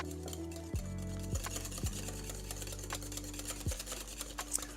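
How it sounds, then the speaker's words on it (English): A whisk beats egg yolks, whole eggs and grated pecorino romano together in a bowl, a steady close rattling and clinking that runs on without a break, with sharp knocks against the bowl now and then. "I'm just whisking together here our 6 egg yolks, 2 whole eggs, half a cup of pecorino romano cheese"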